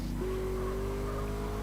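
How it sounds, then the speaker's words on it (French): A car drives in GTA San Andreas with a steady engine drone and a sustained tire-squeal tone that holds over a constant wash of game noise. No voices. "Alors voilà, je prends une voiture."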